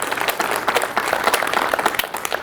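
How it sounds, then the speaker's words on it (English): Audience applause at a Hastings comprehensive plan kickoff meeting, a steady dense wash of many hands clapping throughout with no break, moderately loud and fairly close. "give Chase a round of applause, because he did that"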